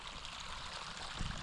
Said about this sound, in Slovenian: Evo, pa tele naprej, teče potok.